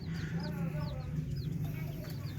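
Darag native chicken chicks chirp in a steady stream of thin, high peeps, several overlapping calls repeating over a constant low hum.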